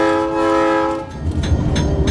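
The GBW 10.1 locomotive, pulling a farewell excursion train from Kewaunee to Green Bay, gives a loud, close, steady whistle blast lasting about a second. Rumbling train noise and the clatter of the rails follow it.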